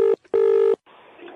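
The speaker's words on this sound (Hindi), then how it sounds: "बैरागी जी के साथ मिलकर एक भाई साहब को फोन लगाया।" A phone rings twice over a line, two steady tones separated by a short gap, followed by faint hiss as the call connects.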